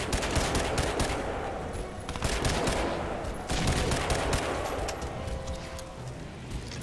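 Dense gunfire rattles through a firefight in the video game Crysis 2 on Supersoldier difficulty, loud overlapping rapid shots and bursts running continuously with no pause.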